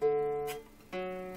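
Mountain dulcimer picking a few notes from Wood Chopper's Reel, two short plucked phrases with ringing tones and a brief pause between, quiet and close.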